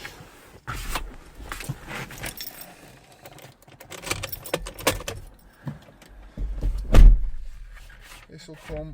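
Two keys for a 67-plate Ford Transit van with 62k miles jangle and clink up close in irregular bursts, with a louder rattle near the end, while a person talks.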